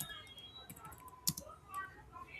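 Keys on a computer keyboard tapped in short irregular bursts at a moderate distance, the clicks fairly faint against a quiet room, with occasional louder strikes and no talking over them.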